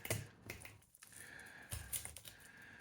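A fillet knife on a sucker fish clicks faintly over the rib bones, a few light irregular ticks with soft scraping between them, close and quiet.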